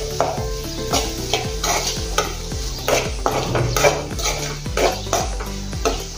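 A spoon stirs red chili powder, turmeric, garam masala and coriander into a sizzling frying-pan mixture for stuffed brinjal, making a steady rhythm of close scraping strokes and light metallic clinks over a soft fry.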